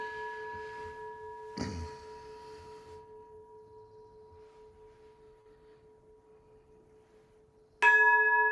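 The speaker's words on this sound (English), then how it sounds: "The sound of the temple bell." A temple bell struck during a meditation session, two strikes about six seconds apart, each with a sharp onset and a long, steady ringing tone that hums on between strikes.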